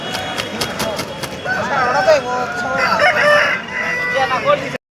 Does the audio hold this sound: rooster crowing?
yes